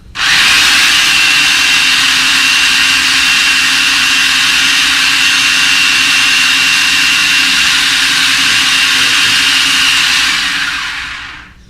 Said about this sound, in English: So now, let's go ahead and grind that up.